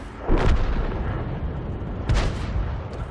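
Tank cannon fire in a video game: two heavy booming shots about two seconds apart, each a sharp blast followed by a rumbling decay, with no voices.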